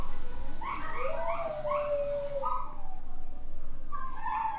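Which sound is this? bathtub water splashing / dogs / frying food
dogs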